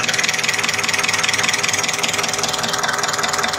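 A Mitsubishi Canter diesel engine idles steadily with the throttle lever closed during fuel injection pump calibration, a loud, even, close rumble with a rapid rhythmic knock running throughout.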